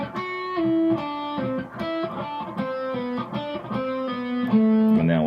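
Distorted electric guitar plays the riff from a song, a steady run of sustained, rhythmically picked notes shifting in pitch over about five seconds, loud and close with no talking.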